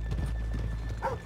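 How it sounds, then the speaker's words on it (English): Horse hooves clip-clop steadily on a town street in the 2018 video game Red Dead Redemption 2, close and continuous, with a short neigh near the end. "Let's leave the horses here off the main drag."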